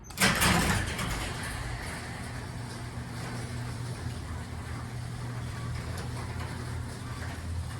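A motorized shop door operator starts with a clunk and runs the door down, a steady low mechanical hum and rumble continuing at moderate volume inside the building.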